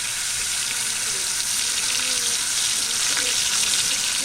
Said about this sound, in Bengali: মাছ ভাজার তেলটাই আমি আলুগুলো ভেজে নেব